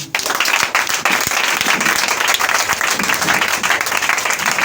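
A church congregation claps and applauds continuously and loudly for several seconds, a dense burst of many hands close by.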